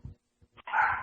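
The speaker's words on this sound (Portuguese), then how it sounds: "Eu tenho 3 cachorrinhos aqui que fazem uma zoeira aqui." Small dogs in a home barking: a couple of short soft yips followed by one sharper, louder bark close to the microphone.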